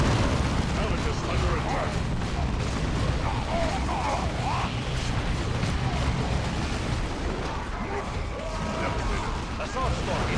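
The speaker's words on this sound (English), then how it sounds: "Grenade into that building." Grenade blasts and gunfire rumble through a Dawn of War 2 battle against Tyranids and Orcs, a continuous wash of explosions and shots with voiced unit lines and talk layered over the top.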